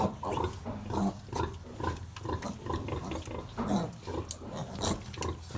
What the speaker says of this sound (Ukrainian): Так, наша дівчинка працює, годує поросяток.